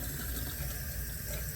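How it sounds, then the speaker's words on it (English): Tap water runs steadily into a sink while a lathered shaving brush is rinsed out after a shave with Cajun Blade Atchafalaya soap, a close, continuous broadband rush with no talking. "Let me wash my brush out."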